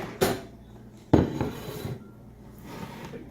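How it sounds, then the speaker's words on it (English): Egg lightly beaten in a bowl for banana bread, two sharp clinks of a utensil against the bowl followed by softer scraping and stirring, close and without talk. "we got to lightly mix the egg"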